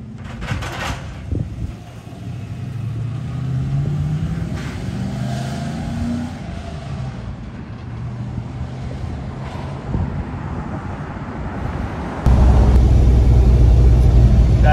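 A truck pulling a newly bought car hauler trailer home, with steady engine drone and road rumble from inside the cab, a brief rise in revs early on, and a louder, heavier engine roar near the end.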